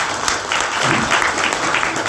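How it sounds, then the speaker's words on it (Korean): An audience at a book concert applauds in a full, steady burst of clapping that stays loud and even for a couple of seconds, with no talk over it. "박수 한번"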